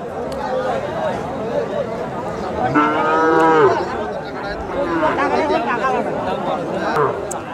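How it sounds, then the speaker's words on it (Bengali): Cattle low and moo at a crowded village cow market in North Bengal, with several drawn-out calls rising over the steady chatter of people nearby. "আমাদের সামনে যে সার গরুগুলো দেখা যাচ্ছে ছোট ছোট"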